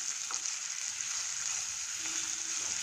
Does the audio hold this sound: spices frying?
yes